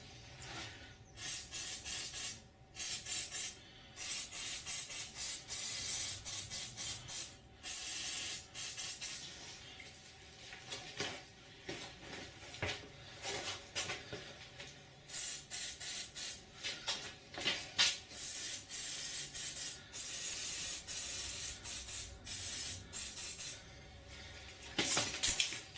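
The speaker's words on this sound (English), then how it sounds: "So let's spray it up." Penetrating oil sprayed from an aerosol can onto seized nuts, a series of close, loud hissing bursts of varying length separated by short pauses.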